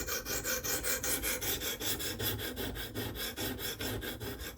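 A knife edge stroked back and forth on a sharpening stone in a stone carrier, raising a burr heel to tip, giving a steady rhythmic rasp of about four strokes a second, close and fairly loud.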